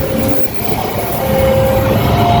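Steady rumbling rail noise of a passenger train going by in Cirebon, Indonesia, loud and continuous with a faint tonal whine rising through it.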